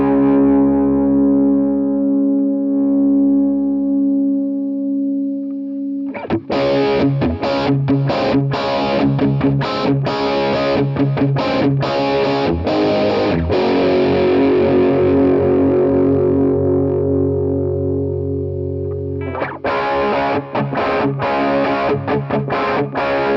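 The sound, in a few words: electric guitar through Quad Cortex warm Vox amp preset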